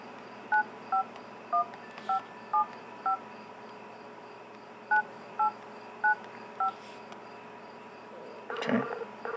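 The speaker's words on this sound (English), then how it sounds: "So you can hear it's dialing on the other end." A series of short, evenly spaced phone dialing beeps in two bursts from an Eken T01 Android tablet placing a call, followed by a brief louder rustle at the end over quiet background hiss.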